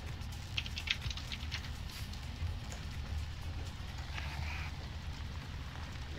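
Steady rain falls in Farming Simulator, a soft continuous patter and hiss that holds evenly throughout with a low rumble underneath and no talking.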